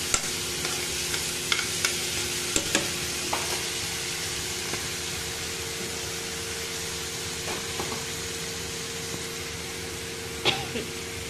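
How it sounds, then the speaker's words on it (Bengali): Button mushrooms and baby corn fry in a mix of butter and white oil, giving a steady close sizzle with occasional stirring clicks and scrapes, and no talking. "ফ্রাই করে নিচ্ছি।"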